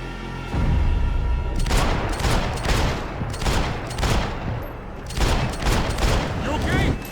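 Dense gunfire and a sustained fusillade fill a Max Payne 3 firefight, loud and close, with repeated bursts and booms throughout and voices shouting over the shooting.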